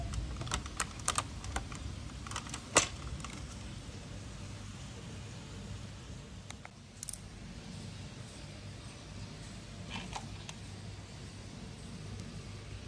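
Plastic trim clips on a BMW F82 M4 vent trim snap into place with a scattering of sharp, close clicks over a low, steady background hum.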